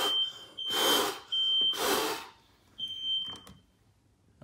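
A smoke alarm in a house sounds a thin, high electronic tone that drops in and out, broken by loud whooshing bursts of noise nearby.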